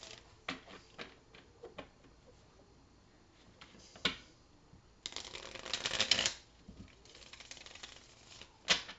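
Playing cards are shuffled by hand nearby, soft riffles and taps in irregular bursts, with a longer flurry of ruffling in the middle.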